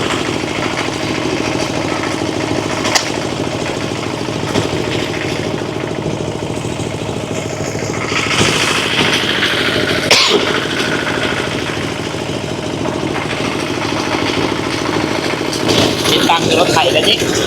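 A tractor engine runs at a steady idle in rural farmland, a continuous mid-pitched chugging drone that is close and fairly loud, with people talking over it at times.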